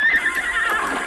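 A horse gives a short, loud, high whinny up close, the call wavering through a single breath with no voices.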